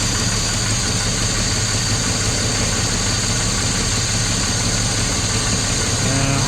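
A Jaguar S-Type engine idles continuously with a rough, rumbling, slightly uneven hum, close and steady, with no voices.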